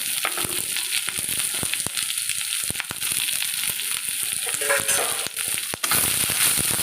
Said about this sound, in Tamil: இந்த சிறுபருப்பையும் சேர்த்து இந்த வெங்காயத்தோடு சேர்த்து நம்ம வந்து வறுத்துக்கலாம்